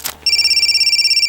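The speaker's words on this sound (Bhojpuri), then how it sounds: "ओहो ये फोन कहाँ बजा था?" After a brief knock, a telephone bell begins ringing sharply and continuously in rapid pulsing trills, loud and close, with no voices over it.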